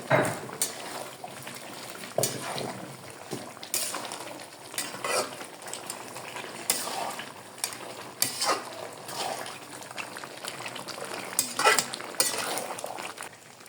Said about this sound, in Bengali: খাসির মাংস তো একটু ভালো করে কষাতে হবে